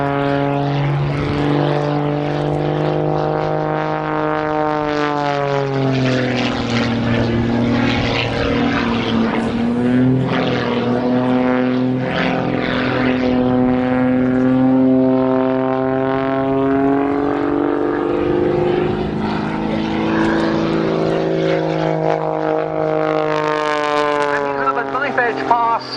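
A propeller aircraft performs an aerobatic display at an air show, its engine droning loud and steady throughout with rising and falling pitch as it turns and rolls overhead.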